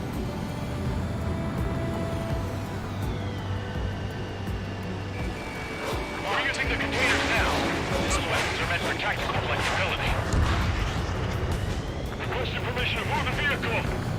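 Gunfire and explosions from the aerial combat game Ace Combat 7, a sustained loud barrage of bursts and blasts over a droning aircraft engine, growing denser after the first few seconds.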